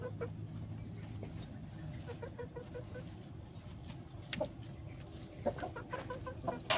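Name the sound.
tame chickens clucking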